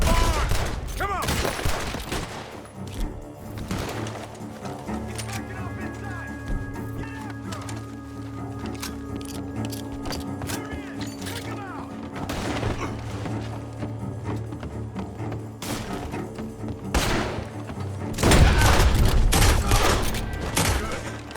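Gunfire crackles from a barn during a shootout in Red Dead Redemption 2, with a loud burst of shots at the start and again near the end and a rumbling game soundscape in between.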